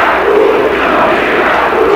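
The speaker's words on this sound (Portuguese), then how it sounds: "E a torcida grita, Djalminha," A Brazilian football stadium crowd at a 1996 Palmeiras versus São Paulo match, raising a loud, sustained, chant-like roar that fills the whole moment.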